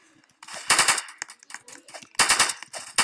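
Rapid automatic gunfire from a video game sounds in two loud bursts. Scattered softer shots and clicks fill the gaps between them, and no one speaks.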